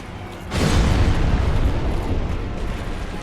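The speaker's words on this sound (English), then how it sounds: "bait him into doing the explosion" A boss's explosion attack in Dark Souls Remastered booms suddenly after a short quiet lead-in, then rumbles on loudly with a long roaring tail and no talking.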